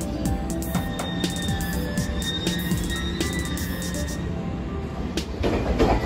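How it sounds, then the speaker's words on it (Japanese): A train bound for Utsunomiya on the Tohoku Main Line arrives at a station, rumbling loudly close by, with rattling wheels, metallic clatter and faint high squeals as it moves along the track. "まもなく宇都宮行きの列車が到着"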